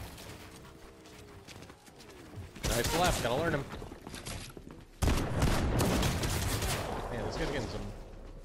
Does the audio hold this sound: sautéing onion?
no